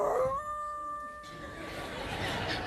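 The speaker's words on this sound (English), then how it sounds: "That night, the winds were howling." Wind howls on a stormy snowy night, a thin whistling moan that gives way to a steady rushing hiss, moderately loud and without voices.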